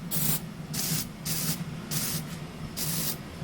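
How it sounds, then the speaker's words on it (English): Five short bursts of Lysol disinfectant aerosol spray hiss in a steady rhythm, close and fairly loud, with brief pauses between each spray. "This Lysol disinfectant spray, I love it."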